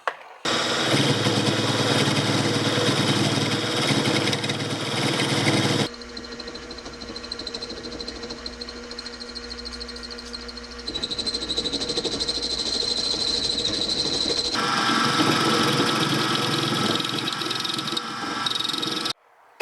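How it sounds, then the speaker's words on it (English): A small milling machine bores out an ORB fitting nut to make a tool for an Arctic Cat differential, giving a steady, loud whirring and grinding drone that shifts in pitch and intensity between passes. "This little small mill can only take small cuts at a time, so this is going to take a little while."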